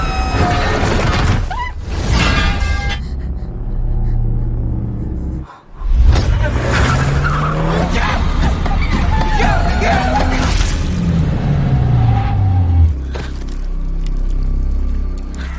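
A car skidding and crashing in the horror film Attack 13: heavy rumbling and scraping, then a sudden near-silent cut followed by a loud crunching impact and shattering debris, the rumble continuing until it settles, with no clear talk.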